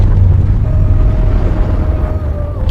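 An asteroid strikes the shallow sea and seabed of a gulf and explodes, heard as a loud, deep, sustained roaring rumble with no voices over it.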